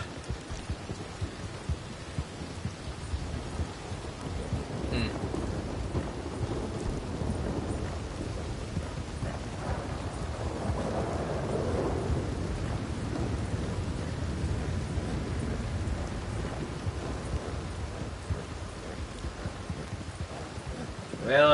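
Rain pours steadily in the Red Dead Redemption 2 video game, a soft, constant hiss of falling water with low thunder rumbling underneath, heard at a fairly faint level throughout.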